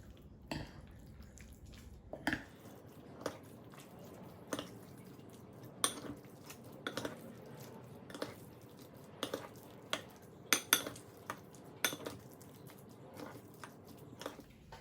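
A spoon works through a twice-baked potato filling seasoned with salt and pepper, giving soft squishy scrapes and irregular light clinks against the bowl, close and quiet, with no talking.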